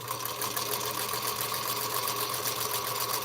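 A home sewing machine stitches quilt pieces in a steady, continuous mechanical whir, close and moderately loud, running alone without voices throughout.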